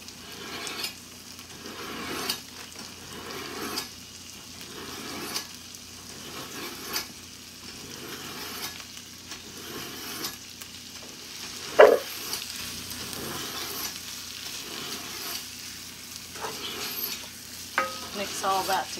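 Steak and chicken fajita strips sizzle in a pan while a spatula stirs them in slow repeated sweeps, a steady frying hiss rising with each scrape and an occasional sharp clack against the pan.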